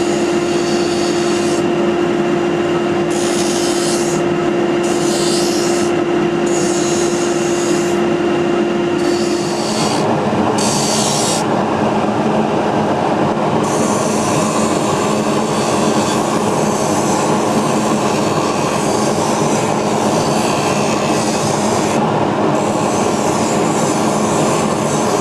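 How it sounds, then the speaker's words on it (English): A power grinder does coarse grinding on a workpiece, a loud continuous whining roar that runs nearly unbroken for the whole stretch, shifting in tone partway through as the load changes, with no voices over it. "I know you're done with the coarse grinding."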